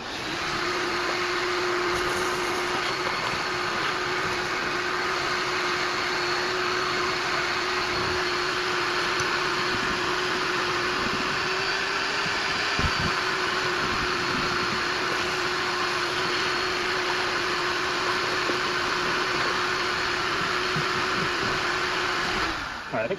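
A vacuum sucks mouse debris out of the inside of a mouse-infested Atari Centipede arcade machine, making a steady, loud, close drone with a constant hum that runs unbroken throughout, with a few faint knocks.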